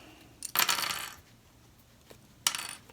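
Metal clips are taken off an embroidery hoop after stitching an in-the-hoop lined lamb zipper bag, giving two clattering, jingling bursts of metal on metal, close and fairly quiet, with no talking.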